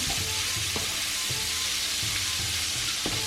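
Chopped onion frying in a pan with pork belly for Japanese butadon, a steady close sizzle with soft stirring scrapes recurring every half second or so, no voices.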